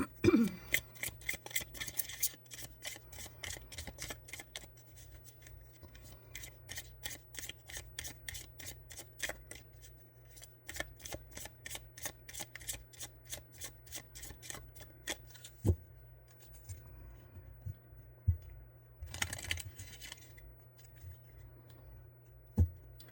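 A deck of oracle cards is shuffled repeatedly, with rapid riffling flutters in bursts separated by brief pauses and occasional soft taps, close up with no talking.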